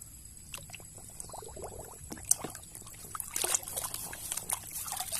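Water poured and trickling while playing with toy excavators and trucks in sand, a light splashing dribble that grows busier toward the end, with faint background noise.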